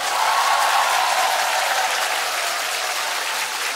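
Audience applause rings out at a live Korean trot concert, a steady, dense wash of clapping hands that fills the hall without a break, with no voices on top.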